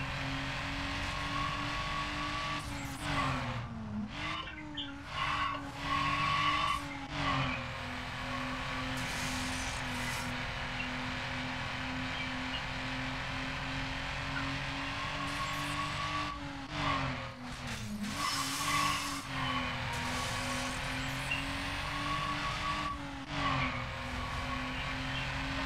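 A racing car engine from Need for Speed Underground drones loudly and continuously, with rising revs, gear changes and occasional tire squeal throughout.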